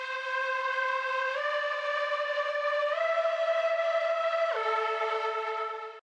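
A sustained trance pad synth from Serum, run through an equalizer with boosted mids, holds long bright chords that shift pitch a few times before cutting off abruptly, steady and alone.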